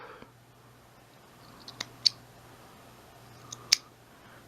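Two pairs of sharp, crisp snips as a cutter clips the end of a vape coil wire, each cut a short bright click, close up over a quiet background hum.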